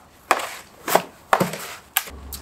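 Hands mix seed starting mix with perlite in a container, giving four evenly spaced, crisp gritty scrapes and rustles, close and fairly loud, with quiet gaps between them.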